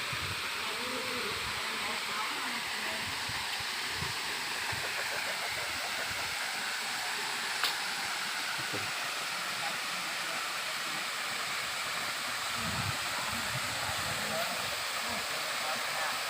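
Water flowing down as a waterfall beside a cave, a steady loud broadband rush throughout, with a voice speaking over it.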